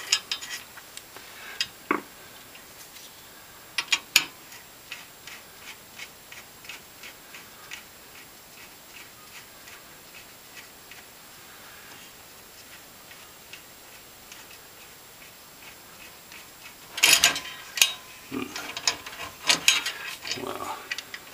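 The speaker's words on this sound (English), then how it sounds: "we're going to get things going with the first screw." Screwdriver driving the first screw into an AZZA Fusion 4000 ATX super full tower PC case, heard as faint, steady ticking clicks that run on through the clip, with sharper metallic bursts near the end.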